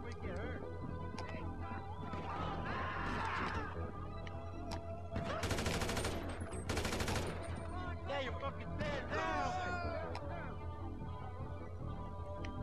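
Gunfire in a GTA 5 Online shootout plays as bursts of rapid shots amid game sounds and background music, with someone speaking French quietly over parts of it.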